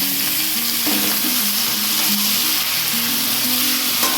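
Marinated mutton hitting hot oil with fried garlic in a pot, a loud, dense sizzle that holds steady with light stirring scrapes, up close.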